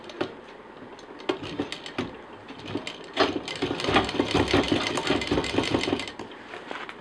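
A sewing machine double-stitches a festive sling bag, a close, fairly quiet rapid whirring and clicking that starts in short bursts and then turns into a steadier run, with no talking.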